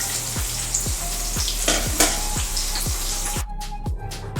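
Chicken kababs deep-frying in hot oil give a steady crackling sizzle, with regular low knocks from a utensil and a brief splashy burst near the end.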